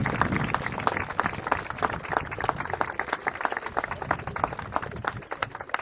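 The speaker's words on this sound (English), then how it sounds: "Students, help me give them a round of applause." Students applaud at an outdoor school district groundbreaking ceremony for an aquatic center, a steady wash of mixed clapping that holds at even loudness for about six seconds and thins slightly at the end.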